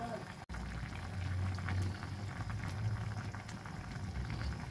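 Fish paksiw bubbles vigorously in a pot with a steady low churning and popping simmer, fairly quiet, after a brief cut near the start.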